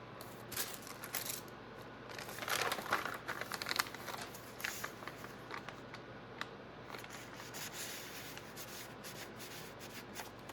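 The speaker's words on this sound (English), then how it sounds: "I didn't want it to scratch, so I've just put a piece of tissue paper in between" Tissue paper tucked between the pages of a handmade beaded booklet crinkles and rustles as it is handled, a quiet, close, irregular series of papery crackles and soft shuffles with no talking.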